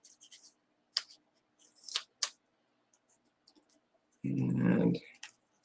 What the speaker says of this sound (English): then I'll trim off the little pieces that hang over